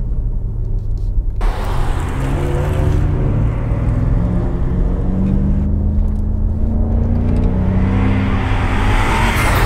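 A 2019 BMW M5 Competition (F90) gives a loud, deep engine and exhaust roar that rumbles continuously on a mountain road, with a powerful low growl that swells and holds, no voices.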